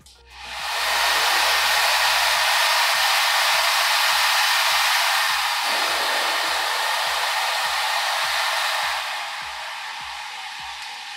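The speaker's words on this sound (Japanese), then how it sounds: "こういう風に調節ができるっていうドライヤーです。" A three-speed hair dryer blows loudly and close, its steady whoosh shifting when the airflow setting changes, then easing down near the end.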